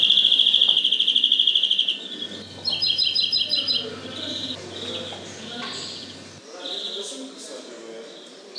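A small caged songbird in Istanbul sings close by in rapid trilling bursts, with pauses between phrases and a person talking quietly in the background.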